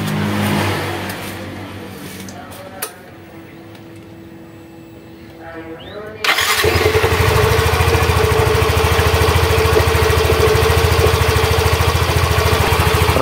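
A Yamaha X-Ride motorcycle engine idles and then jumps to a loud, steady running drone after a brief quiet stretch, with a constant mechanical whir of the rear wheel spinning fast throughout.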